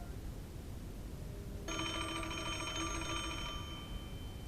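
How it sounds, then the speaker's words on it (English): A telephone rings in the puzzle video game Puzzle Agent, a steady electronic ringing tone lasting about two seconds over quiet background hiss. "And he gets a phone call."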